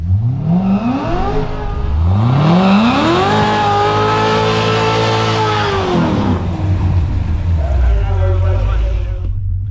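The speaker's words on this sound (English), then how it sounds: "Z06 Corvette with a aftermarket Magnuson Supercharger on it." A Z06 Corvette with a Magnuson supercharger, dynoed at 807 wheel horsepower, races with a loud, close engine that revs up hard through rising gear pulls, with faint tire squeal and voices underneath.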